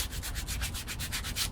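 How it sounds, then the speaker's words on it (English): Sandpaper rubs over the trimmed edges of a handmade leather wallet in steady, rhythmic back-and-forth strokes, close and fairly quiet, with about a dozen even passes and no voices. "and you start sanding"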